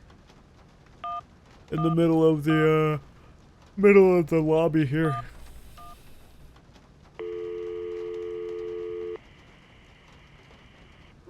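A phone call in the Syberia video game: after someone speaks, a steady electronic telephone tone sounds for about two seconds, clean and close, then stops.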